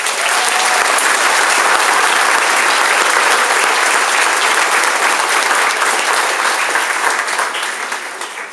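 Loud, sustained audience applause for students at a 6th grade awards ceremony, dense clapping from a large crowd that stays steady before fading off near the end.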